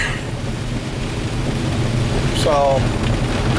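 Heavy rain pours down outside a shop during a thunderstorm, a loud constant roar with thunder rumbling beneath it, and someone speaks briefly over it.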